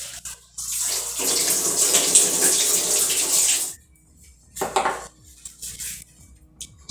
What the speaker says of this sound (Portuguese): E vou lavar minha mão.